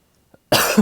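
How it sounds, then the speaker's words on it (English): A single loud, harsh cough bursts out after a moment of near silence, close to the listener. "Now, of course, I'm coughing because"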